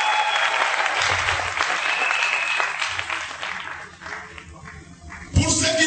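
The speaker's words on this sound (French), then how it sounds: "Est-ce qu'on peut acclamer très fort?" A church congregation at a sermon applauds loudly and continuously, a dense wash of clapping and crowd noise that slowly thins out before a sudden burst near the end.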